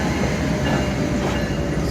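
A CSX freight train led by an ES44AH locomotive rolls past close by, a loud, continuous rumble of wheels and railcars with no voices.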